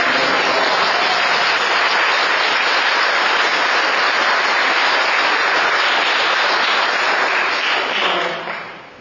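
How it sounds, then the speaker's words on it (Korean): A Korean church congregation claps together during an Easter service. The applause is loud, dense and continuous for several seconds, then fades out quickly at the end. There is no talking over it. "여러분들과 같이 박수 치면서 할렐루야"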